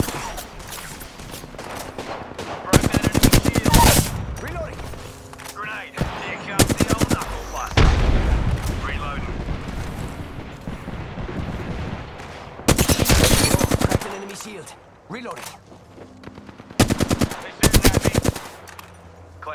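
Rapid automatic gunfire in the video game Apex Legends comes in several loud, close bursts separated by short lulls, over a busy background of game effects.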